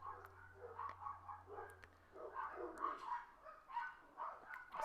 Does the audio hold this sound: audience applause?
no